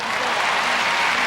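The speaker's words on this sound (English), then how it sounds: "You can hear the crowd reacting to the first set for required elements" An arena crowd at the 2001 World Figure Skating Championships applauds a pair's marks with a dense, steady clatter of clapping, loud and continuous.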